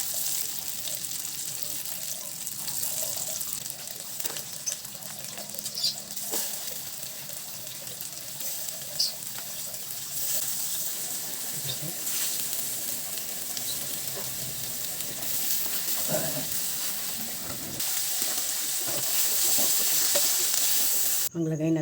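Burger steak patties fry in a hot pan, giving off a steady, even sizzle that fills the scene from start to finish and grows slightly louder toward the end.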